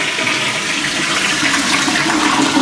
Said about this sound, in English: That flush had lots of bubbles.